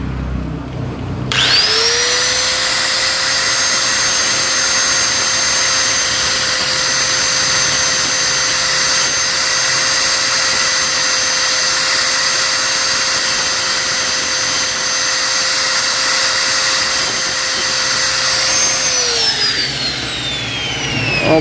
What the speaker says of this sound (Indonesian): Kita gerinda dulu.